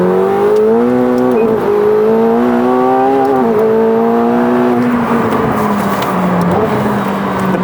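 A McLaren 750S in track mode accelerates hard from inside the cabin, engine pitch climbing in rapid sweeps with quick gear changes dropping the revs before it pulls again, loud and continuous.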